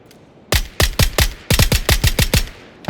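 Rapid bursts of close, loud automatic gunfire in PUBG, a quick series of sharp shots after a brief quiet start.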